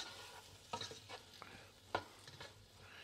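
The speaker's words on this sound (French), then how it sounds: "Donc, on touille bien." Quiet scraping stirs of food in melting butter in a pan for a simple chili con carne, a few soft utensil clicks and scrapes over a faint continuous sizzle, no speech.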